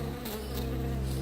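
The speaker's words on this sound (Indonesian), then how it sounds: "ada banyak lebah dan kelelawar di dalamnya" A story sound effect of bees swarming gives a continuous, close buzzing drone with slight wavering in intensity, with no speech over it.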